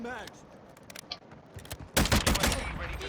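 Repeated double-tap gunfire in the video game Modern Warfare 2 multiplayer, a sudden dense burst of loud shots after quieter game sounds, with someone talking underneath.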